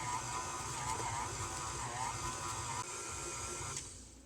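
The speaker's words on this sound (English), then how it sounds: "the stand mixer with the dough hook attachment for, say, 8 minutes. Start on slow." A KitchenAid stand mixer runs on slow speed with a dough hook, kneading sourdough pizza dough: a quiet, steady mechanical whir with a rhythmic churning pulse that fades slightly at the end.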